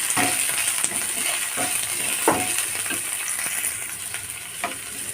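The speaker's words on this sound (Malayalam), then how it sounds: "ഒരു സവോള ചെറുതായിട്ട് കട്ടിയതും കൂടി ഇട്ട് കൊടുക്കുന്നുണ്ട് ഇത് രണ്ടും വഴക്കിയെടുക്കാം" Chopped onion sautés in a pan with a steady, bright, close sizzle, punctuated by several clicking scrapes of a spoon stirring at irregular intervals.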